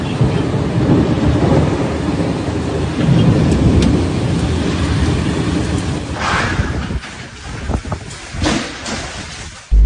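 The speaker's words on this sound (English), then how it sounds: "Heavy rain fell on Tuesday evening, accompanied by thunderstorms in separate areas of the Makkah al-Mukarramah neighborhood" A heavy thunderstorm in Mecca, loud rain roaring continuously with deep rolling thunder, the downpour easing slightly toward the end where a few sharper crackles stand out.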